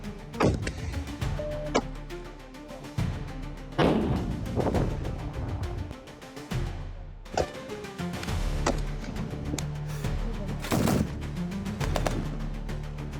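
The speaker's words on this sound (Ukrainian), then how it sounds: "Ми відкриваємо вогонь зі з озброєння, тобто вже з великокаліберного на великій дистанції." Heavy large-calibre gunshots boom at irregular intervals during long-range military training fire, several sharp loud reports with ringing decay over a constant mechanical background.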